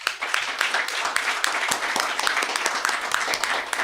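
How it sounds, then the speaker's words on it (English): Audience applause at a school board meeting honoring a silver medal winner, a steady wash of many hands clapping, fairly loud and continuous throughout. "If we could give him a round of applause."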